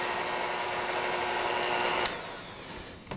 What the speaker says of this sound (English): I'm going to turn the mixer off